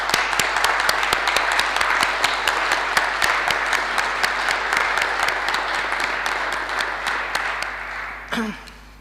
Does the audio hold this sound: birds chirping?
no